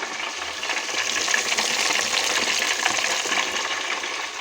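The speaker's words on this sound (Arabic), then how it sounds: "وهون هلا عم بقلي اللحمة" Minced meat fries in a pan beside frying potatoes, giving a continuous bright sizzle with soft stirring scrapes, close and steady throughout.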